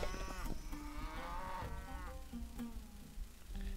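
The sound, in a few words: cattle mooing in video game Civilization V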